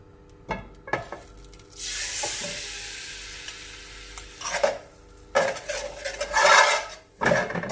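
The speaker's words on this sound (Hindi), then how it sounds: "वो 2 अंडे इसमें फ्राई करेंगे।" Two beaten eggs fry in hot oil in a cooking pot, a steady close sizzle broken by sharp clinks of a utensil scraping and tapping the pan.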